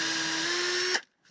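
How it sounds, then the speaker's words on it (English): A power drill bores a pilot hole for a brass screw, giving a steady high whine for about a second before cutting off abruptly into near silence. "So you start with drilling a pilot hole."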